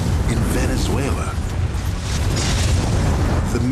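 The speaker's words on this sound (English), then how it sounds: "the explosion produced a sound so loud it was heard 500 miles away in Venezuela" The 1902 volcanic eruption and explosion of Mount Pelée, heard as a loud, continuous deep roar and rumble that holds steady without a break for the whole stretch.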